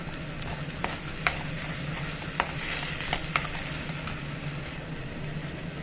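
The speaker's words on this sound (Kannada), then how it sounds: "ಈಗ ನೀಟಾಗಿ ಇದು ರೋಸ್ಟ್ ಆಗ್ತಾಯಿದೆ" Ginger garlic paste sizzles steadily in a pan for paneer gravy, with a continuous frying hiss broken by a few sharp scrapes and clicks from stirring; no voices.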